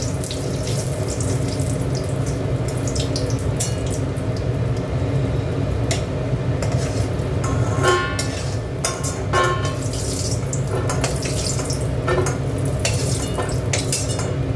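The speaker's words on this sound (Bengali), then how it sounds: "বড়িটা ভেজে তুলে নেবো।" Soybean chunks (bori) frying in a pan give a steady, close sizzling hiss that runs unbroken throughout, with a few brief clinks and scrapes breaking through now and then.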